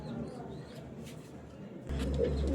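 A pair of Oman Teddy pigeons cooing softly nearby, a low murmuring coo in a quiet room that becomes louder and fuller toward the end.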